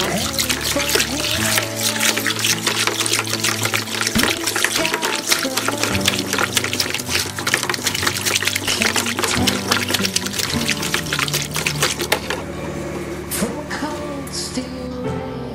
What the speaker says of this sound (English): Once that boiling water goes in there